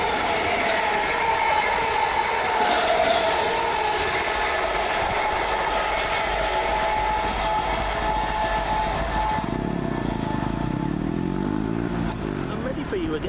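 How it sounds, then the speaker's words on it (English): Two Class 317 electric trains pass through Meridian Water station with a continuous loud rumble and whine, a rhythmic rattle of wheels over joints building near the end. "317885 and 317501 pass, working 2 Sierra 42 from Stratford to Bishop Stortford."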